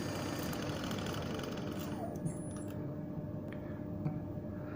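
A low, steady video game vehicle engine rumble runs throughout with faint rattles and ticks, fairly quiet and even, with no voices.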